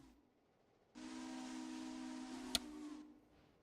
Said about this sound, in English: I kind of hear another steam engine coming.